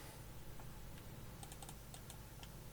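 Light keystrokes on a computer keyboard as a tempo is typed into Cubase music software, a short cluster of quick soft clicks in the middle over a constant faint hum.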